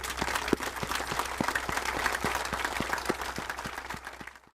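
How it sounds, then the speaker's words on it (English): A crowd at a Memorial Day ceremony honoring veterans gives steady, dense applause with sharp individual claps standing out, sustained for several seconds and then fading away at the end. "So I want to give you guys a round of applause for being such great Americans."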